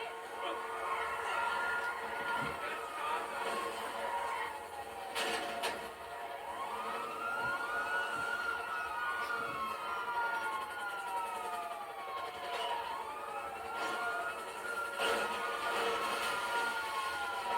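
Wailing emergency siren from a police vehicle in the game GTA 5, sweeping up and down repeatedly and steadily throughout, fairly loud over engine and traffic noise with no speech.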